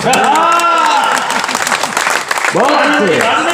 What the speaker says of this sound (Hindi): एक बार फिर मस्ती की ताली बजा देना